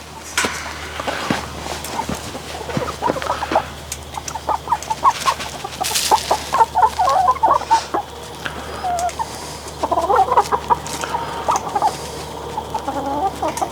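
Several farm chickens cluck and squawk in short, irregular bursts close by during evening feeding with scratch, with scratching and shuffling between calls.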